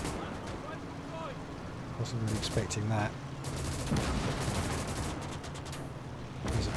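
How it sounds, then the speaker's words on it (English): Anti-tank cannon fire in the Gates of Hell strategy game, heard as booming shots and crackling battlefield gunfire amid a steady rumble, mixed under someone talking. "There's some kind of anti-tank cannon shooting at them."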